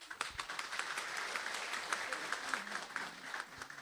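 A crowd applauding at the final of a lucky-drum game show, dense steady clapping throughout, heard at moderate distance under someone speaking.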